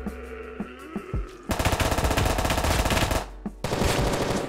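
Automatic gunfire in the Roblox survival game Apocalypse Rising 2, a loud, rapid sustained burst up close, preceded by a few isolated shots and ending in a short pause before firing resumes.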